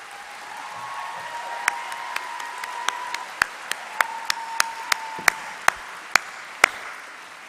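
Scattered, distinct handclaps from a university graduation ceremony audience, a dozen or so sharp separate claps over a faint steady tone, rather than a full ovation.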